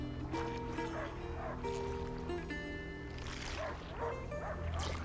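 A dog barks a few times in yips and woofs over music and a steady wash of water, with voices faintly in the background, in the video game A Plague Tale: Innocence.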